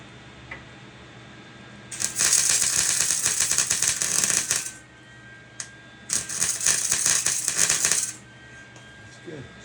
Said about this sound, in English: That welder's really taking it here.